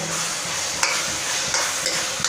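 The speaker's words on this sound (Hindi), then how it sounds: "तो अब इसको हम थोड़ा सा भूनेंगे।" Carrots and masala sautéing in a pan, a steady, close, loud sizzle with a few sharp stir clicks and scrapes throughout, no voices.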